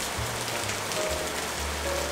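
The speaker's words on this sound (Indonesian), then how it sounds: "Di luar hujan. Hujannya deras banget," Heavy rain falls steadily outside during a downpour, a dense, even hiss of drops striking surfaces with no pauses and no voices.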